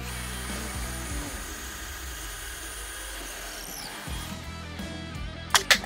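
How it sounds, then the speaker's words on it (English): Power drill pre-drilling holes in wood blocking for a patio roof riser, a steady whirring drone running through the clip at moderate level, with a couple of sharp knocks near the end and no talk. "After the positions are marked, pre-drill your holes."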